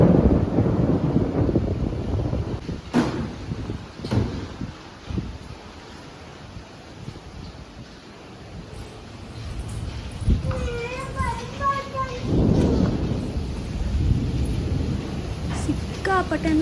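Heavy first rain of the year in the Malenadu hills near Sagar, with thunder and strong wind: a steady roaring downpour and gusty wind noise, a few sharp cracks, and voices of children and adults talking over it.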